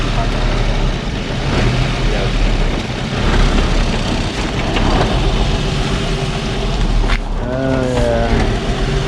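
A Nissan 350Z engine runs roughly with a persistent misfire, a loud, close, uneven rumble that stays steady throughout, with a brief rev flaring near the end.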